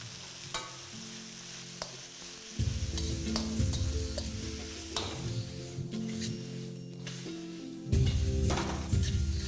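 Vegetables with a little green chili stir-fried for chicken chow mein, loud sizzling and scraping in a pan with repeated tossing bursts, close and continuous without talk.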